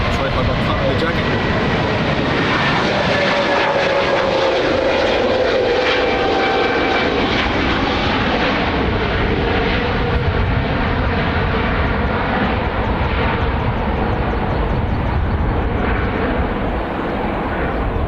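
A Lufthansa airliner passes close by at Dublin Airport, its engine roar loud and steady throughout with a falling whine, while people talk over it.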